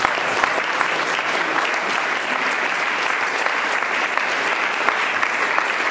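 A church congregation applauds together, a dense, steady and loud round of clapping that fills the whole stretch without a break.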